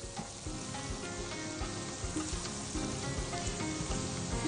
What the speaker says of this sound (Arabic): ونكمل تشويح